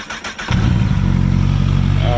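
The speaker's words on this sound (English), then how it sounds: "that Taylormade racing exhaust doing its thing" A 2008 Honda CBR1000RR motorcycle engine with a Taylormade racing exhaust fires up and settles into a loud, throaty idle with a sharp exhaust rumble, close by and steady.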